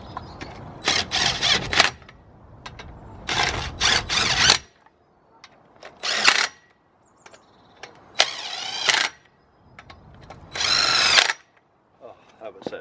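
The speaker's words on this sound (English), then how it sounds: "Just gonna get the impact wrench." Impact wrench driving BMW wheel bolts in a garage, several loud whirring bursts of one to two seconds each, separated by short pauses with faint background noise.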